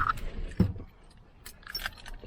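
Car keys jangle in short bursts, loudest near the start and again later, close by, during work fitting a Honda Civic intake into a Ford Crown Victoria.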